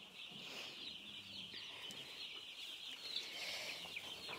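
Young chicks peeping and clucking inside a farm barn alongside turkeys and ducklings, a faint continuous chorus of high chirps with soft fowl calls.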